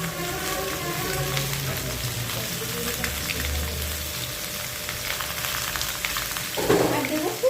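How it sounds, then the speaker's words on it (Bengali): Chopped green beans with a pinch of salt frying in a pan, a continuous close sizzle and crackle like light rain, swelling with a louder burst near the end. "এবার সবজিগুলো নরম করে একটু ভেজে নেব"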